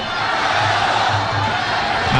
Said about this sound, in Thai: เสียงเชียร์มาแล้วคุณพิเชษ ก็เสียงเชียร์ที่กดดันกรรมการได้เหมือนกันครับ